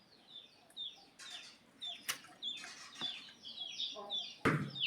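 Chickens on a poultry farm cluck and squawk in short, repeated bursts, with a few sharp flaps or clatters, moderately close and fairly quiet.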